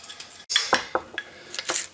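A spoon clinks and scrapes against a dish while a dry rub of spices, including celery seed, is mixed, several quick close taps and scrapes.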